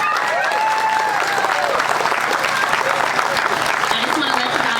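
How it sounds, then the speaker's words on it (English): An outdoor crowd at a veterans' walkathon claps loudly and steadily for veterans, a sustained dense round of applause with whoops and voices mixed in throughout. "So can you all give them just a round of applause right now?"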